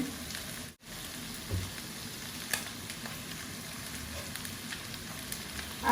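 Fish pieces frying in hot oil in a pan for Sylheti atla khatta, a steady continuous sizzle with faint crackles and one brief dropout, no voices.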